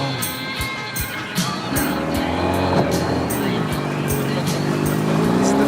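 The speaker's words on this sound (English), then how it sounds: "The engine doesn't sound too good." A struggling boat engine on a fast boat in Cambodia drones loudly and steadily throughout, its pitch wavering and straining, with rhythmic knocking and rushing noise around it.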